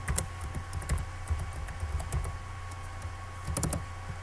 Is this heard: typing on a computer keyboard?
yes